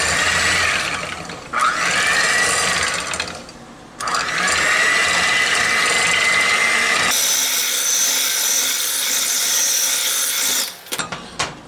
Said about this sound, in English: I'm going to blend this up a little bit with the mixer